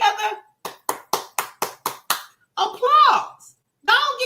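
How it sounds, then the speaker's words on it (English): Someone claps hands in a quick run of about seven sharp, evenly spaced claps, close and loud, with a voice speaking before and after them. "applause."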